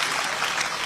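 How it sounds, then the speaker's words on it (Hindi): An audience claps in a brief burst of dense, steady applause, a bright crackling wash of many hands heard close and fairly loud with no talk. "जोरदार तालियां बजती रहनी चाहिए"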